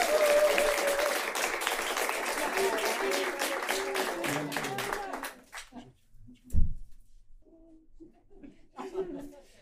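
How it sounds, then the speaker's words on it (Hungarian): Applause from a live audience at the start of a recorded Hungarian talk show, a dense burst of clapping for about five seconds that fades, followed by scattered voices and a short thump. "Lehet, hogy egy kis tapsal kell bátorítani a..."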